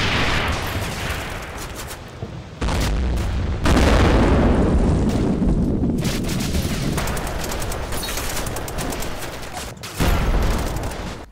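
Anti-tank Panzerschreck rockets firing and bursting amid a video game battle on the Kharkiv front, a dense, continuous barrage of heavy booms and crackling gunfire with loud swells, no voices.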